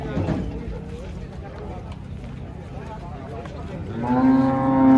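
A cow being unloaded from a truck lets out a long, low moo that rises near the end, with people chatting in the background and faint livestock noises.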